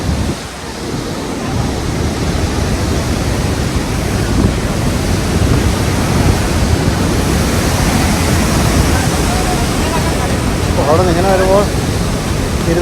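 Iguazu waterfall roars as a constant, broadband rush of falling water, loud and close, filling the whole scene; brief bird-like chirps rise over it near the end, with no speech.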